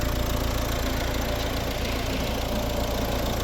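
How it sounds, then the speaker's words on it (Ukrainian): A 2012 Volvo S60 with a 1.6 HDI diesel engine idles steadily up close, a loud continuous rumble with a fast, knocking clatter and no voices. "Ось робота двигуна."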